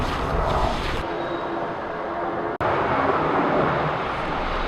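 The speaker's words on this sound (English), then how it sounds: "there's an airport nearby, so that's why you can hear the planes." Airplanes from a nearby airport roar overhead as a steady broad rumble, continuous and fairly loud throughout, with a brief dropout midway, heard outdoors at an abandoned classic car graveyard.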